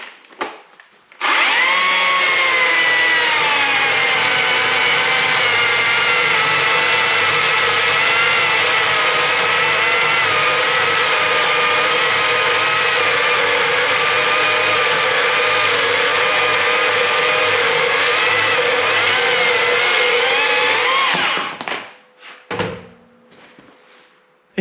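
A Stihl MSA 140 C-B cordless chainsaw cuts through a big 6x6 timber, a loud, steady electric whine and chain rasp running without letup for about twenty seconds, then winding down into a few clunks as the cut finishes.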